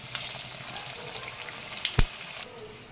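Sesame-coated drumstick leaf fritters sizzle in hot oil, a soft crackling hiss running throughout, with a brief sharp clatter near the end.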